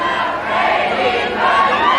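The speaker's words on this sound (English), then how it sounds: "And the crowd is into it." Crowd noise at a 1994 MTV Rock N' Jock celebrity softball game, a steady wash of cheering and chatter from a large crowd with no single voice standing out.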